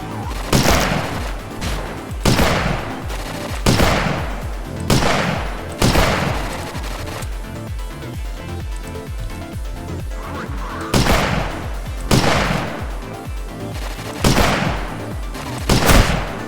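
Gunfire in the boomer-shooter video game Dragonfly: loud, repeated blasts arrive in bursts about every two seconds, each with a sharp attack and decaying tail, with a quieter stretch in the middle.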